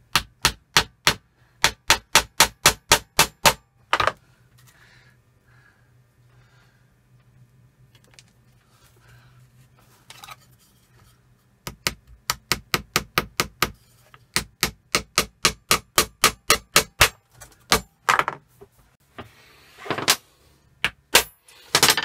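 A hammer drives pieces into an upcycled wooden coffee table box in close, loud bursts of rapid evenly spaced blows, separated by a quieter pause with faint handling sounds.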